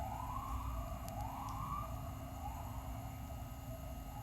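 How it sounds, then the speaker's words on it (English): A siren wails continuously in the distance, its pitch rising and falling in slow repeating sweeps over a steady low rumble of background noise. "Good heavens, what noise. 1986 sirens again."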